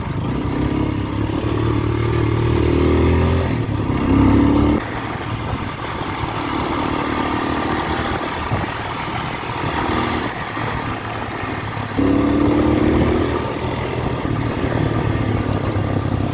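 A BigBoy TSR 250 motorcycle engine runs with a steady mid-pitched hum, with louder revving swells near the start and again later, and no talking.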